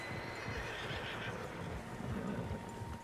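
Several horses in the Red Dead Redemption 2 game whinny and neigh at a middle distance, repeated calls over a steady outdoor rumble of hoofbeats and wind, with no talking.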